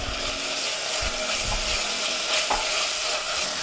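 Browned onions sizzle and fry steadily in a pan as finely chopped tomatoes go in, with stirring scrapes and a continuous close hiss throughout.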